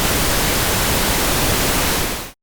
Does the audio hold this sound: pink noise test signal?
yes